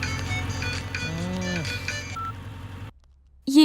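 A phone in a Telugu movie scene rings with a steady electronic tone pattern for about three seconds under background music, then goes quiet before a voice briefly begins.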